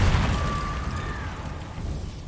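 A Confringo fire spell bursts in Hogwarts Legacy as a loud, booming explosion that rolls off and fades over about two seconds.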